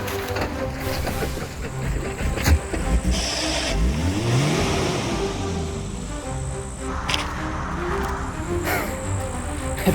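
A German car's engine runs with a steady low rumble, then revs up in a rising sweep near the middle before settling back to a rough idle; no one speaks.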